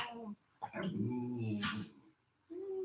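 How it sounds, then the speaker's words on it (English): A dog gives a drawn-out vocal outburst, half bark and half whine, close by, with a short pause before another yelp begins. "He barks at everything."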